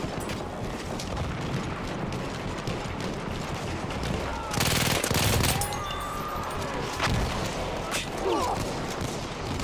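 Battlefield 1 combat with continuous rattling machine-gun fire and scattered shots, a loud close burst midway, all over dense battlefield noise, with voices talking underneath.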